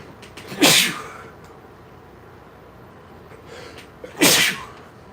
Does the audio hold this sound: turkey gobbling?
no